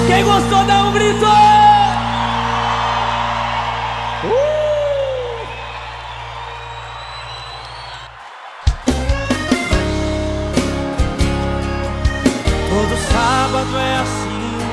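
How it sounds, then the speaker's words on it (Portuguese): A crowd at a live sertanejo-style concert shouts, whoops and cheers over the band's playing. A loud, dense wash of voices gives way to music with sharp percussive hits. "Quem gostou dá um grito."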